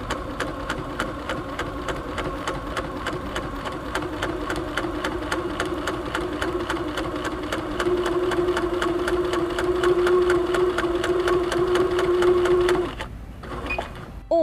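A Baby Lock Quest Plus quilting machine stitches with a fast, even mechanical rattle and steady motor hum, up close and loud, continuing for several seconds before stopping abruptly near the end.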